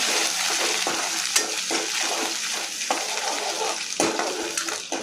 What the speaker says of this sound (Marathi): कोथिंबीर टाकायची तेलात छान.